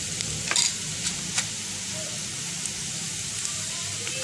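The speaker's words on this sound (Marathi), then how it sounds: "कांदा छानसं लालसर आता आपण परतून घेऊया" Onion browned in a pan with a pinch of turmeric, for a spicy Satara-style crushed peanut dish, gives a steady close sizzle broken by a few light spatula taps and scrapes.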